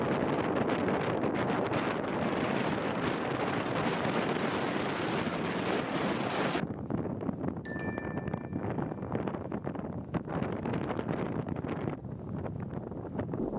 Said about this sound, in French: Je n'avais pas souvenir d'avoir jamais subi un vent aussi violent